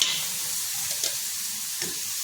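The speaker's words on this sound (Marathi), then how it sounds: "थोडंसं तूप घालून घ्यायचे आणि त्यामध्ये आपण हा जो गूळ आहे तो मी बारीक करून घेतला तो घालून घ्यायचा" Crushed jaggery dropped into hot ghee in a kadai, giving a soft, even sizzle with a couple of light stirring scrapes.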